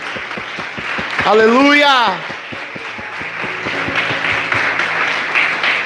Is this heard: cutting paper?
no